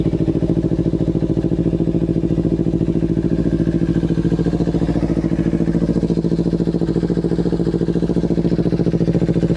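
A used Kawasaki Ninja 250 FI motorcycle engine runs at a steady idle, a close, even, rapid throb that holds constant throughout with no voices.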